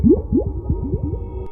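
Bubbly dinosaur growl from the Roblox Dinosaur game, a run of about six quick rising gurgling pulses, like bubbles burbling upward, heard close and alone for a second and a half.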